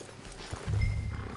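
Horse hooves clip-clopping in Red Dead Redemption 2, a short run of low, steady thuds that grows louder halfway through, heard alone without talk.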